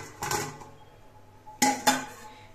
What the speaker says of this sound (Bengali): এসে কেকের ঢাকনাটা খুলে নিচ্ছে